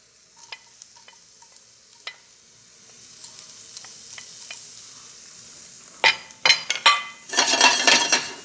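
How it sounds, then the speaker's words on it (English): Corn kernels hit a hot pan and toast, a faint hiss with sparse clicks giving way to louder scraping, rattling stirs and a bright sizzle near the end. "Into the hot pan, I'm going to put this corn."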